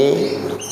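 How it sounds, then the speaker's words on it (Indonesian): Babuan foster-parent bird in a Yorkshire canary breeding room giving a short, close chirp, a brief bright call lasting under a second. "inilah yang menjadi burung ibu asuh atau bapak asuh yang merawat kenari Yorkshire semenjak dari telur sampai dengan mandiri"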